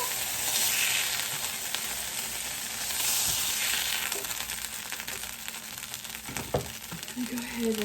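Pork chops sizzle steadily in a frying pan with a continuous broadband hiss and scattered crackles. A few faint knocks sound near the end.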